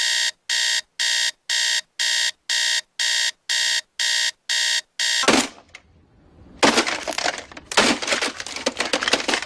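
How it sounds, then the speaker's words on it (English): Alarm clock ringing in the morning with a steady run of about ten evenly spaced electronic beeps, loud and close, followed by rustling and clattering handling noise as it is silenced. "I did press the snooze button maybe once or twice."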